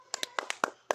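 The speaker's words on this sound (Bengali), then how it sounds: "সবাই একটা হাততালি দাও।" Children clap their hands in a quick, uneven burst of about seven sharp claps during a sibling biscuit-eating challenge at home, close and moderately loud with no talking.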